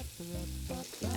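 Egg-coated food seasoned with herbes de Provence sizzles in a pan, a steady close frying hiss lasting about a second with no one talking.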